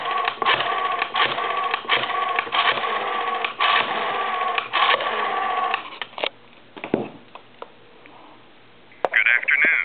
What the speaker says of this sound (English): watch how fast I'm able to dial the number here